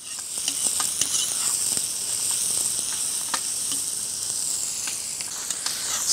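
Onion frying in a kazan over an open campfire for paella, a steady close hiss of sizzling oil with scattered small pops and crackles throughout, no talking.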